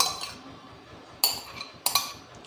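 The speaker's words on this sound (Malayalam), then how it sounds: "നേരത്തെ തയ്യാറാക്കി വെച്ച മസാലയിലേക്ക് ഉടച്ച് വെച്ച കപ്പ ചേർത്ത് കൊടുക്കുകയാണ്" Mashed tapioca goes into prepared masala in a bowl with two sharp clinks of a utensil against the dish amid soft scraping, close and fairly quiet.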